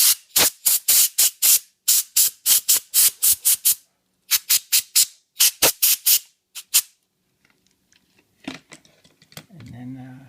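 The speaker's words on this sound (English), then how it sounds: "And then spray it out real good." Short bursts of aerosol spray blasting into a car's odometer gear housing, repeated rapid hissing pulses with brief gaps, followed by quieter rustling and handling sounds near the end.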